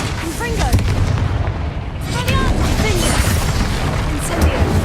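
Confringo fire blast spell in the video game Hogwarts Legacy, heard as loud booming bursts of explosive impact layered over dense, continuous battle noise with sharp pops and rumbling low end throughout.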